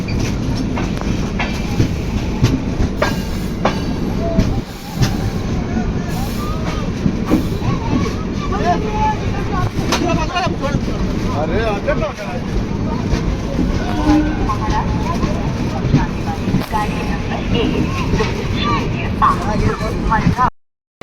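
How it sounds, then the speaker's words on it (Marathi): Inside the Janshatabdi Express 12052 as it arrives at Ratnagiri station, a loud, continuous rumble and rattle of the rail cars goes on, with voices mixed in throughout. "गाडी एक दहा मिनटं लवकर रत्नागिरी रेल्वे स्टेशनला पोहोचली आहे"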